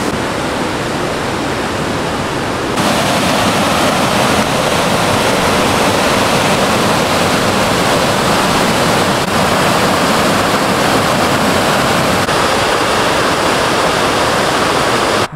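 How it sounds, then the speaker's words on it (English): The North Yuba River rushes loudly in a steady broadband roar, with a close, constant wash of moving water that grows slightly stronger after the first few seconds. "This is the North Yuba River."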